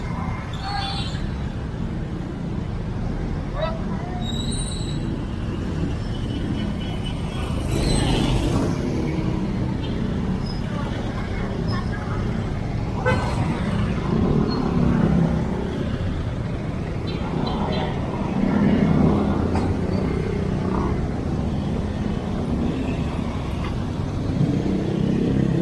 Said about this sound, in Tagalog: Sa traffic. Dami talaga dumaraan dito pagka maaga eh.